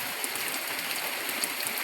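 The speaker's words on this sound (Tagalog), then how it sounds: "kasi malakas pa talaga yung ulan" Heavy rain pours down in a steady, dense hiss with no pause, loud and close, with no voices over it.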